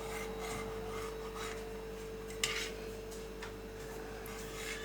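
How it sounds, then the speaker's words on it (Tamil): A knife sawing through bread for a sandwich, steady rasping strokes close by with a low hum underneath and one sharper knock partway through. "இப்போ நம்ம ப்ரெட்டை சென்டரை வந்து கட் பண்ணி எடுத்துக்கலாம்."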